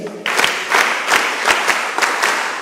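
Mentorship-session audience repeating a special rhythmic clap, a pattern of loud synchronized group claps spaced roughly every quarter to half second over a bed of scattered applause.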